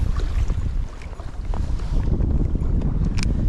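Strong wind buffets the microphone in loud, gusty low rumbles during smallmouth bass fishing in Pacific Northwest weather, with faint water and boat sounds underneath and no talking.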